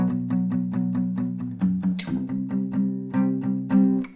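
An acoustic guitar strums the last line of a song at moderate volume, with quick, evenly spaced down-up strokes and a chord change partway through.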